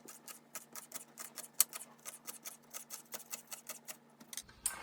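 Large scallions, white and green parts, sliced on a cutting board with a steady run of crisp, evenly spaced knife chops, quiet and close, with no talking.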